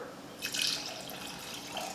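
Three-quarters of a cup of water is poured into a mixing bowl already holding lime juice and coconut aminos, giving a brief, soft splash in a quiet kitchen.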